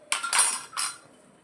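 Mustard seeds dropped into hot coconut oil in a pan, giving a few short bright crackling, sizzling bursts up close, with a fainter burst after a brief pause.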